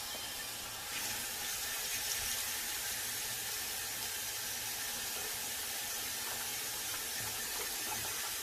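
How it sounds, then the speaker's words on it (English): Water runs steadily from a tap while hair is washed, a constant close hiss and splash that holds evenly throughout, with no speech. "we about to wash this hair, wash these waves"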